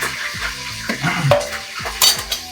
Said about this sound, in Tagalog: piniprito natin bawang lang, sibuyas